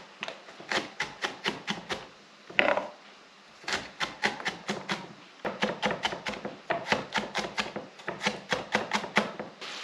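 An onion chopped with a knife on a cutting board, crisp close strokes in quick bursts of five or six, separated by brief pauses, with no talk.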